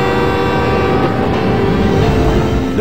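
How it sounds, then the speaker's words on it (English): Loud rumbling train approaching in a 1995 movie scene, a steady heavy roar of rail noise with low horn-like tones running throughout the short stretch, no speech. "There's a train coming!"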